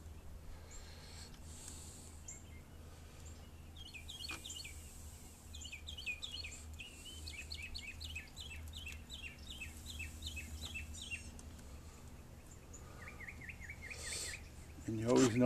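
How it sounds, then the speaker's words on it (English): Songbirds sing outdoors on a spring morning, repeated bright chirping phrases coming in bursts over steady low background hum, moderately near, with a louder rustle at the very end. "We'll let the birds take over."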